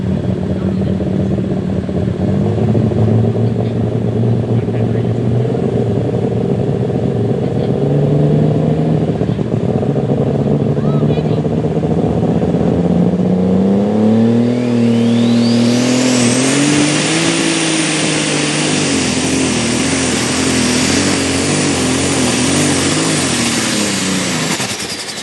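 Truck engine at a night truck and tractor pulling event, a loud sustained roar that climbs steeply in pitch as it revs hard, then holds at a high whine before easing off.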